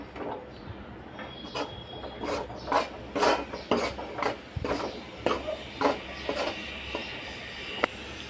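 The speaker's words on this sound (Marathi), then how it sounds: "आता हे आपण मंद आचेवरती भाजून घ्यायचं आहे." Ragi flour being dry-roasted in a pan over low heat, with a steady run of soft rhythmic scraping and rubbing strokes from a spatula, close and moderate in level, no voices.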